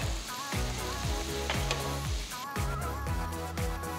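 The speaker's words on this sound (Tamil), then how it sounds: "வெங்காயம் 2-3 நிமிஷம் வதங்கின பிறகு 2 தக்காளிய பொடிய நறுக்கி போடுங்க." Chopped onions, tomatoes and curry leaves sauté in a pan for tomato semiya, giving a loud steady sizzle broken by a regular rhythm of stirring scrapes, close up.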